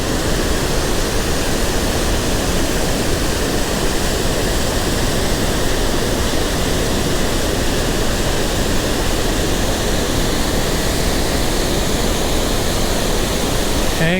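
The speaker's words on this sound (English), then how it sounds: "Here are the falls that I came to see." Roxton Falls in Quebec pours in a steady, loud roar of rushing water, swollen after overnight rain, a dense broadband wash that holds unchanged for the whole stretch with no other sounds standing out.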